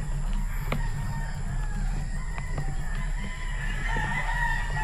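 Roosters crow and cluck in the distance at a farm near Pandin Lake, San Pablo City, over a constant low rumble and wind-like noise, faint but repeated.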